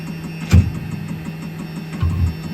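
A faulty engine idles after a repair attempt, a low steady hum broken by two brief louder bumps, with no talking.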